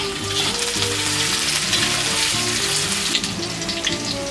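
Panch phoron and garlic crackle loudly in hot oil for a moong dal with fish head, a dense continuous sizzle with a sustained tonal hum running underneath.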